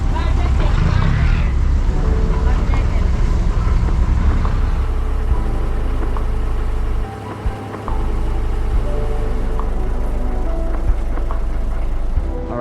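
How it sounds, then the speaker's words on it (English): Large tour boat engines rumble into life on the Mekong Delta, a heavy, loud low-pitched drone that holds steady with a brief dip partway through. "The engines are firing up, so let's go."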